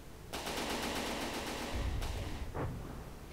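An anti-missile turret in the naval combat game From the Depths fires a rapid, continuous burst of loud automatic shots, then a heavier low rumble and a final sharp report.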